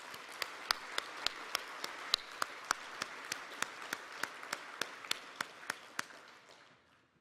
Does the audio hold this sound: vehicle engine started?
no